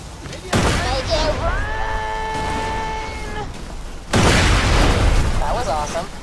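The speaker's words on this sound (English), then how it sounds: "Explosives on those safes and watch the fireworks." Explosives blow open safes on a payroll train in the video game Borderlands 2, two heavy booming blasts several seconds apart, each followed by a rumbling wash of debris, with a tonal game sound ringing between them.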